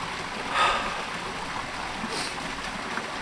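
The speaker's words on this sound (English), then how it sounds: "All I hear is water running behind me and the fire going back there." Running water flows steadily near a campsite with a fire burning nearby, a soft continuous wash of broadband noise, fairly distant and even, with no talking.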